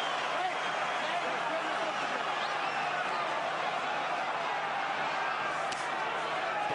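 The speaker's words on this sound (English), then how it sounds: "This crowd going absolutely bonkers." A boxing arena crowd roars loudly and without a break throughout a Helenius vs Chisora fight, a dense wall of cheering and noise under an excited commentator's voice.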